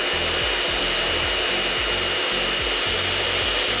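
A handheld hair dryer blows continuously at close range while hair is blow-dried with a paddle brush, a loud steady airy roar with a rhythmic low pulsing as the airflow shifts across the brush, no voices.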